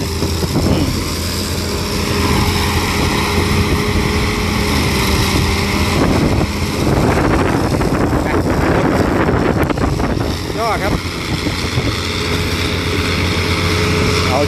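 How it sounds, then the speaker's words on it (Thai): Strong wind buffets the microphone in loud, continuous gusts, with a tractor or bulldozer engine droning underneath. "ลมแรงครับลมแรง"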